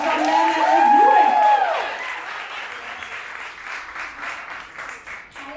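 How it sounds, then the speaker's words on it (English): An audience at an International Women's Day event claps and cheers to welcome speakers to the stage. A few voices whoop loudly over the start, then the applause continues as an even patter. "So let's give them a round of applause"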